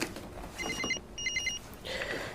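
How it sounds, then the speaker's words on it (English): A telephone rings in an office scene, two bursts of a trilling bell separated by a short gap, fairly clear over a quiet room tone. "when Ada gets a phone call"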